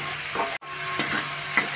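Frying with salt and turmeric in a pan gives a continuous close sizzle with a few stirring scrapes, briefly cut off by a short dropout.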